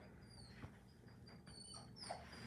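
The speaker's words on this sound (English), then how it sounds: "What is this dog doing?" A pet dog whimpers indoors, faint high whines repeating several times over a low background hum.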